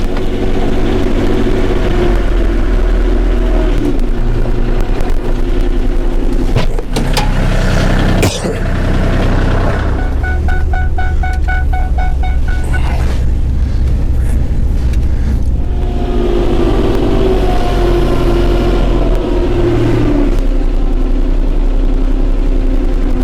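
Kubota L3560 tractor engine laboring as it climbs onto a trailer, with a loud, steady diesel rumble close by and brief rises in effort throughout.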